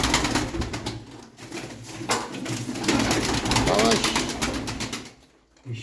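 Pigeons coo softly among rustling, clattering noise, with a person speaking over the birds at close range.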